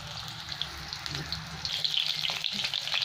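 Soyabean chicken koftas fry in hot oil, a close, continuous bubbling sizzle that swells louder and brighter in the second half, with no talking.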